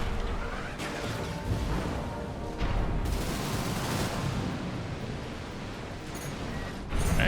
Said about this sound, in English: He used a foot missile.